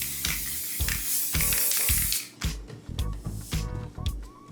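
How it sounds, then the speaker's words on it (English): Spray adhesive hissing from an aerosol can onto foam for an Ikea stool seat, in a series of close, loud broadband bursts with short gaps between them. "Now we're just gonna take some spray adhesive and spray the foam to stick onto the wood."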